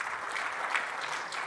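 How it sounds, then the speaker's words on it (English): A conference audience applauds after a software demo, a short, even wash of clapping that holds steady at moderate volume with no voices. "Thanks for the applause"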